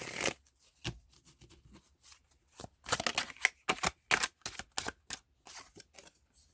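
Tarot cards are shuffled and drawn close by, in quick bursts of riffling and slapping with brief pauses between them, and no voice is heard.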